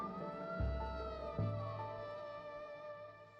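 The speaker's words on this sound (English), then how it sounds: "Despite the sound of the blaring siren" An ambulance siren wails in long, sweeping tones, heard somewhat muffled and at moderate distance, with a couple of low thumps partway through as the pitch rises and falls.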